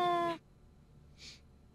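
A cat's meow played back, one short harmonic cry followed by a fainter brief squeak, recorded close against a quiet background.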